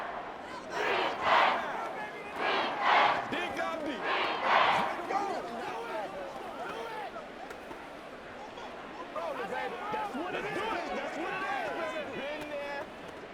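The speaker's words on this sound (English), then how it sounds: "A big play here as the crowd noise rises." Video game stadium crowd noise in Madden 24 swells in loud surging waves of cheering during a big football play, then settles into a busy mix of overlapping chatter and calls.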